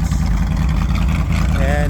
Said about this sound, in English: it's the first time this machine's moved out of the shop in well over 2 months